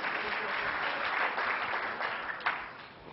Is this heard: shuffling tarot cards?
no